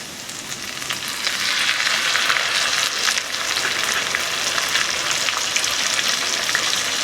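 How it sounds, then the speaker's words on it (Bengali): Ground spice paste hits browned fried onions in hot oil while tel koi, a Bengali fish curry, is being cooked. It gives a loud, dense, continuous sizzle that swells early and holds steady throughout. "এর মধ্যে দিয়ে দেব বেটে রাখা মশলা।"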